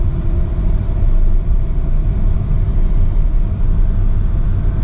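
Hyundai Elantra converted to electric drive, running in third gear: a steady, loud low rumble of motor and road noise that carries evenly throughout, with no voices.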